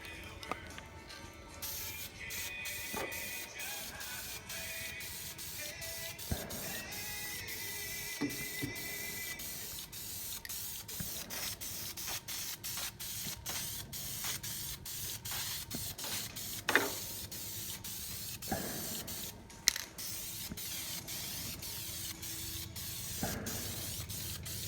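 Parts of a Peterbilt 359 truck are sprayed Cat Yellow from a spray can, with a steady hissing spray. A few short clicks and knocks interrupt the spray.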